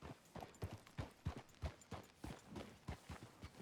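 Horse hooves clip-clop in Red Dead Redemption 2 on a town street near the sheriff's office, a brisk, even rhythm of close, crisp hoofbeats heard alone with no talk.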